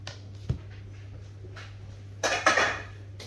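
Sliced onion dropped into a frying pan while making tortilla de patatas, a quiet kitchen with a low steady hum, a soft clunk near the start, then a brief louder sizzling rustle as the pieces hit the pan.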